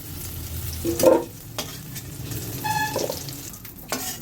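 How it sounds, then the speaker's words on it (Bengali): Potatoes sizzle and fry in a wok with intermittent stirring and scraping sounds, no talking. "আলুগুলো সুন্দর করে ভেজে তুলে নিয়েছি"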